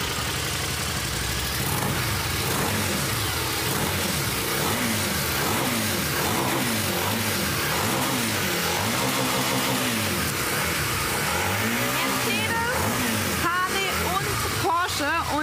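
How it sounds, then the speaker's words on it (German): Motorcycle with a Porsche-developed sound revs at an evening Porsche sound event in Weissach, a steady loud engine drone with repeated rising and falling rev swells, busy crowd noise throughout. "jetzt wollen wir mal gucken, wie sich die V-Watt anhört mit dem Porsche-Sound."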